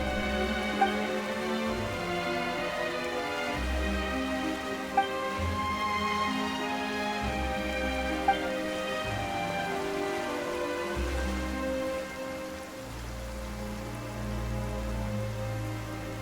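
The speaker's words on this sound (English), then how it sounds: "Why is it raining all of a sudden?" Steady rain falls in the video game Genshin Impact, a continuous dense patter under a low droning musical score, with a few brief clicks; no one speaks.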